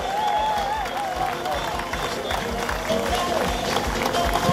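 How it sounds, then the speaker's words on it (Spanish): An audience applauds at a community event in Savaneta, with clapping and some crowd noise throughout, fairly loud and mixed with background voices and a faint tone. "Un gran aplauso."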